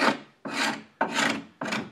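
Hook blade scraping the edges of a wood board: four loud, rasping strokes close to the microphone, each one sharp at the start and then fading before the next pull, in a steady rhythm.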